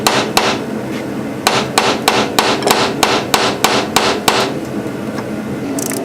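Hammer blows on a rusted carriage bolt on a Grand Cherokee hatch, a loud close series of about a dozen sharp metallic strikes in an uneven rhythm, alone without talk.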